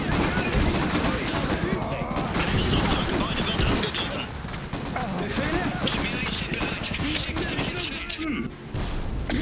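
Dense gunfire fills a battle in the WWI-era strategy game Iron Harvest, with rapid volleys and machine-gun bursts running continuously and loud throughout, a brief dip near the end.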